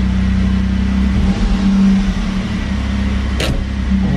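A 1991 Alfa Romeo 164 idles steadily nearby while backing up in reverse gear, its low engine hum continuous throughout, with a brief sharp mechanical squeak or whine rising near the end; no one speaks.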